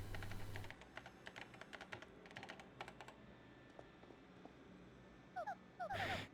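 Keys click rapidly on a computer keyboard in the video game Paper Mario TTYD, a dense run of taps, then scattered single presses and brief electronic chirps near the end, with no talk.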